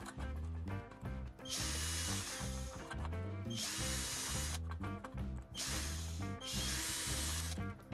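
An electric drill boring a 1 mm hole through copper tubing whines in three long, loud bursts, separated by short pauses, while steady music plays underneath.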